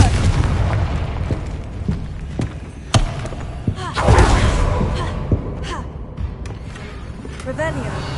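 Confringo blasting curse cast repeatedly in the Hogwarts Legacy video game, heard as sharp booming impacts and thuds over a dense, continuous game soundscape, the loudest burst landing near the middle.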